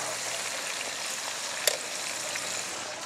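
Round chips and sirloin steak fry in a pan for dinner, giving a steady, close hiss and sizzle with one brief sharp clink partway through.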